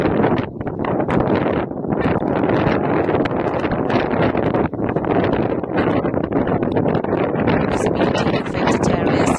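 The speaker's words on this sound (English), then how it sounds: "Strong winds gusting up to 60 km per hour are creating dangerous conditions with blowing and" Strong gusting wind during a snowstorm with blowing and drifting snow in Ontario, a loud, continuous roar buffeting the microphone with surging gusts throughout and no voices.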